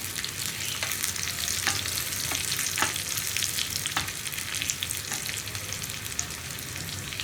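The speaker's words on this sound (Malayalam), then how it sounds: "ആ വറ്റൽമുളക് ഒന്ന് ചെറുതായിട്ട് കട്ട് ചെയ്തിട്ട് നമുക്ക് ഈ ഉള്ളിയുടെ കൂടെ ചേർത്ത് കൊടുക്കാം." Onions fry with chopped dried red chillies in a pan, a steady close sizzle broken by occasional stirring scrapes, with no voices.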